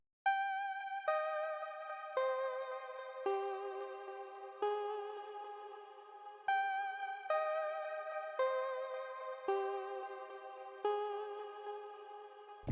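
Bright synth pluck melody from the Spiral plugin's chromatic preset in FL Studio, for an Amapiano beat: a dozen or so clean, reverb-tailed notes stepping up and down at an even, unhurried pace, alone.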